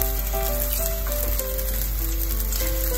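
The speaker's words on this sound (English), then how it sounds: "So get your pan nice and hot. Okay, once that's sizzling," Food sizzles and crackles steadily in a hot pan, a constant frying hiss with no voices.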